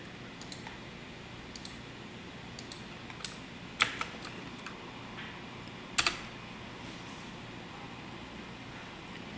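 Keystrokes on a computer keyboard as a command is entered, soft scattered taps at an irregular pace with two louder key hits, close and quiet against a faint room hiss, no speech.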